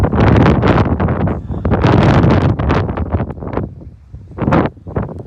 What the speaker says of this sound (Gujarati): પહેલી જ વાર વરસાદ પવન સાથે સાટા.